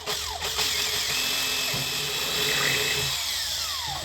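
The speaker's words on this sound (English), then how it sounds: "And then I'll drill this one out." A power drill whines continuously at close range, its pitch shifting slightly as it bites, with steady grinding noise throughout.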